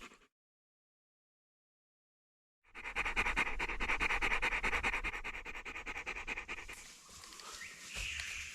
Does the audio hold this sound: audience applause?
no